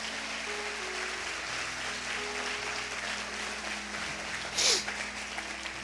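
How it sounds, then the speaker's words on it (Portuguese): A church congregation applauds as a sustained, diffuse patter of clapping, with a held musical tone underneath and a brief sharp burst near the end. "Então aplauda ao Senhor, bem forte."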